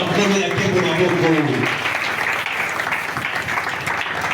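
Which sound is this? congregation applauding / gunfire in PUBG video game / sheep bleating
congregation applauding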